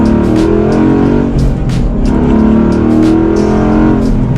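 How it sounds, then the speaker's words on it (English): A Ford Mustang Boss 302 pulls hard from second gear, its V8 engine loud and close as the revs climb and break briefly at gear changes. "last acceleration from second gear."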